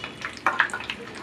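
Garlic tempering frying lightly in peanut oil, a soft crackle with a few sharper pops and spits close by, and no voices.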